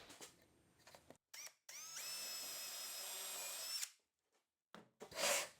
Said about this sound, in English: I'll pre-drill and countersink a hole